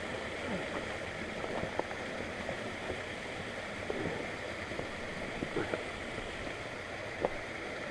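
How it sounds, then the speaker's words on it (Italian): Steady broadband wash of flowing water from the Meduna river in a mountain setting, continuous and moderately distant, with faint scattered clicks and light footstep-like sounds over it. "Ma siamo sul fiume Meduna."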